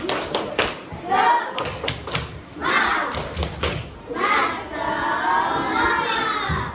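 Children chant together in a lively rhythm, broken by bursts of clapping and thumping, loud and close in a busy room.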